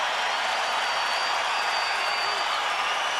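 Basketball arena crowd at the 2003 Western Conference semifinal game 3 between the Spurs and Lakers, a steady, loud wash of cheering and applause filling the whole moment.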